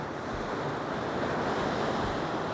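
Steady roar of ocean surf breaking in a bay, a broad continuous hiss of breaking waves with some wind noise, moderately distant.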